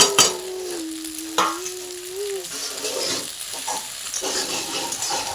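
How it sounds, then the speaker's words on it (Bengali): Previously fried egg stirred into a hot pan, with a steady sizzle and spoon scrapes against the pan, plus a faint whistle-like tone early on. "তো আমি দেখো ভেজে রাখা ডিমটা অ্যাড করে দিলাম। আবারও নেড়ে চেড়ে"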